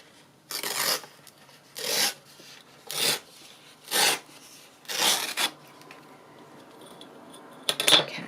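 A paper book page being torn by hand in a series of five or six short, close rasping rips with brief pauses between, ending in a sharper final tear.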